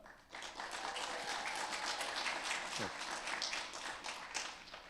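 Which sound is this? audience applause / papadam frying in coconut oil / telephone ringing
audience applause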